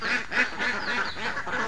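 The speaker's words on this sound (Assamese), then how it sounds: "হাঁহকেইটা খেদি দিয়া" A small flock of ducks being herded keeps up a busy stream of overlapping quacks, close and fairly loud, with slight variation in pitch and spacing between calls.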